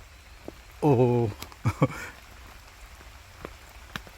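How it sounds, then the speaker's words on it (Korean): Rain falls at the National Arboretum in Pocheon in June, a soft continuous patter with scattered drop ticks close by, and someone speaks briefly near the start. "지금 비가 내리고 있습니다."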